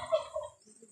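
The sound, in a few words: turkey gobbling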